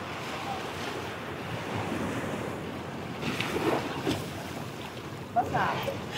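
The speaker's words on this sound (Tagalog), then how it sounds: "nandito lang po kami sa Dalampasigan." Ocean surf breaks on a beach at dusk beside an ocean-view deck, a continuous roaring wash with wind buffeting the microphone and swells rising toward the end, recorded close.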